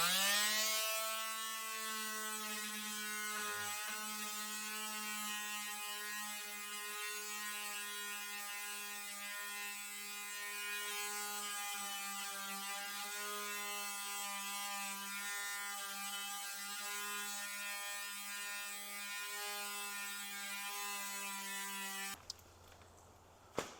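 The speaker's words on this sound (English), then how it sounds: "So I tried a square jitterbug sander" An old Makita square jitterbug sander runs steadily on a boat hull, a continuous high-pitched buzzing hum that stays even and fairly faint, then cuts off near the end.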